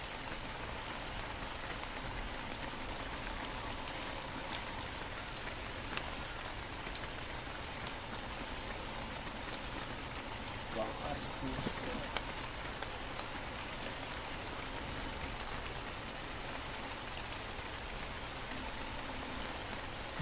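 Steady rain falls in the survival video game Ark: Survival Evolved, a dense, even hiss of drops hitting surfaces that holds at one level throughout, with no talk over it.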